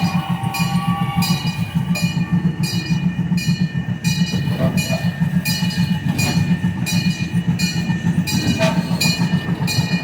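Passenger train rolling along the rails at Irvine Park Railroad during a Halloween pumpkin patch ride, a steady loud rumble with rhythmic clicking of wheels over track joints throughout.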